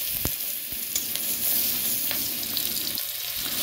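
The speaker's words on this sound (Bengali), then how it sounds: "ওই কড়াইতে তেল গরম করে গোটা জিরা, পেঁয়াজ কুচি ভালো করে নেড়ে চেড়ে রসুন বাটা দিয়ে দিলাম" Whole cumin, chopped onion and garlic paste frying in hot oil in a kadai, a loud, close, continuous sizzle with brief stirring scrapes and taps of a spatula against the pan, with no one talking.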